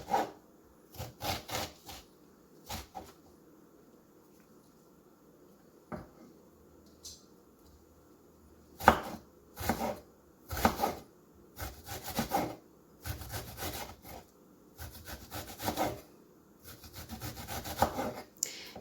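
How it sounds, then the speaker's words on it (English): A knife chops onions finely on a board in short bursts of rapid cutting, with quiet gaps between the close, crisp strokes. "you go ahead and cut up the onions and chop it up into fine little bits"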